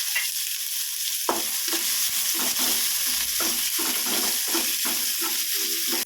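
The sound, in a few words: onions frying in oil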